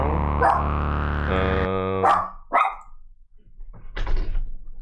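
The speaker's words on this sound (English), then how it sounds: "I guess my dog is barking right now." A pet dog barks several times in quick bursts, loud and close, over a steady run of music; a short whimpering yip follows after a brief pause.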